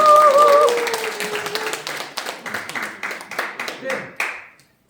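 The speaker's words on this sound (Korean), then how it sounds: "큰 박수 부탁드립니다." An audience at a company lecture event claps steadily for several seconds, a dense patter of hands that thins and stops abruptly, following a speaker's voice at the start.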